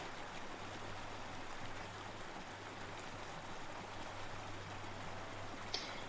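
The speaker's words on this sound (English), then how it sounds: "And I hope that background water sound doesn't make you go pee" A steady background rush of running water like a stream flows continuously and fairly faint, with a low hum underneath, during a tabletop game session.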